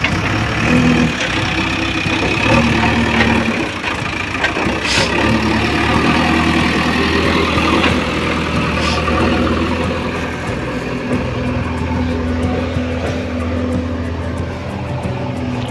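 A JCB excavator working in a mango orchard, its diesel engine droning steadily at a moderate distance with a constant low hum and occasional clanks, no voices over it.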